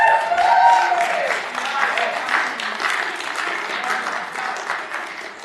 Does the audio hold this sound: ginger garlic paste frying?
no